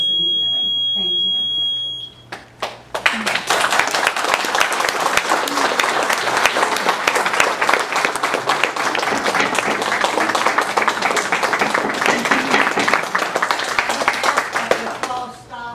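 An audience at a school district meeting bursts into loud, sustained applause that runs for over ten seconds, following a steady electronic beep and some voices at the start.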